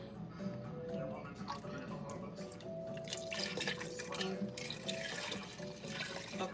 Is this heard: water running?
yes